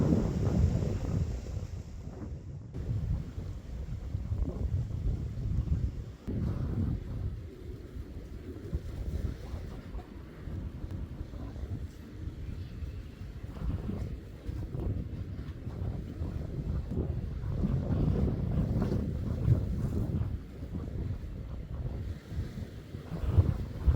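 Wind gusts hard across a lakeside fishing spot, a continuous rumbling buffet with surging swells and low microphone roar throughout, no talk.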